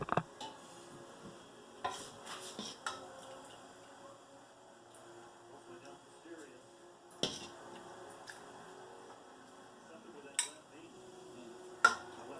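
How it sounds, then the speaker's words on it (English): Dishes and utensils clink softly while German split pea soup with meat is ladled into bowls in a home kitchen, scattered sharp taps and scrapes over a quiet background, a voice talking faintly at times. "I'm going to plate it up now"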